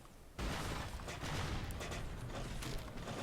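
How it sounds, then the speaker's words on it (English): Pirate ship cannon broadsides in a video game naval battle, a sudden onset of dense, rumbling volleys of booming shots that overlap into a continuous barrage for about three seconds, fairly quiet overall. "staying at a decent distance and just trying to unload those broadsides"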